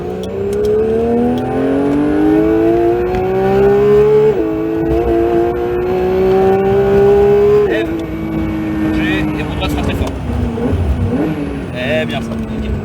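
A Porsche 911 GT3 (992) engine roars loudly on the Castellet driving-centre circuit, its pitch climbing steadily through the revs, then dropping with a gear change. It is heard up close from inside the car, and a voice can be heard faintly at times.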